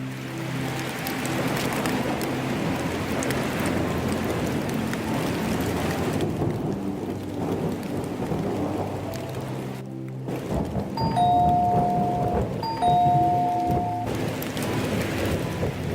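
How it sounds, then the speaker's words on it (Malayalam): Heavy rain pours outside a house at night, a steady dense hiss filling the scene, with a few clear chime-like tones ringing out near the end. "പുറത്ത് നല്ല മഴ പെയ്യുന്നുണ്ട്"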